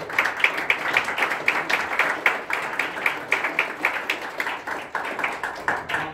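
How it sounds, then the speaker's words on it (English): Light applause from a modest audience closing a legal briefing, with individual claps audible in a quick, uneven rhythm that holds steady throughout. "so a round of applause for everybody"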